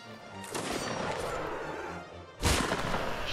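Musket gunfire in the Mount and Blade video game sounds as a dull rumbling volley, followed by one sharp, loud shot near the end.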